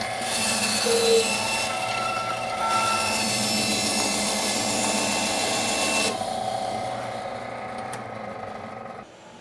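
A bandsaw cuts through a wooden workpiece with a steady, loud whining hum and rasp. The tone shifts slightly as the cut finishes, then the sound eases off toward the end.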